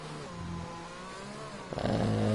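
A Formula 1 car engine from a racing video game, held at a steady high pitch through a flying lap on the Austria circuit, then swelling louder and rising toward the end, with no voices.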